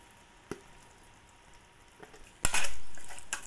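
Mutton and potato pieces coated in turmeric being stirred in a metal pan: a few sharp spoon clinks against the pan, then a rising hiss of frying as the mixture is turned, close up and without speech.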